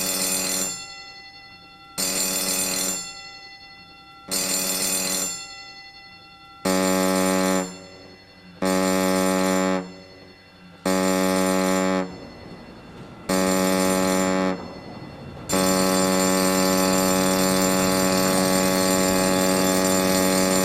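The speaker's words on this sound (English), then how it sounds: "The abandoned ship alarm sounds like this." Ship's abandon ship alarm, a loud ringing electronic alarm sounded in seven short bursts with brief gaps, then one long continuous blast, with no one speaking.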